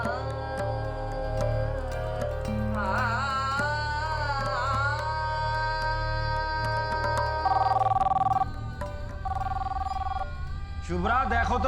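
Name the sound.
telephone ringing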